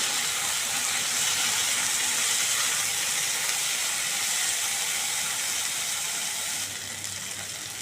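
Washed raw moong dal fries in a pan with a dense, continuous hiss and sizzle, close and steady, easing slightly near the end.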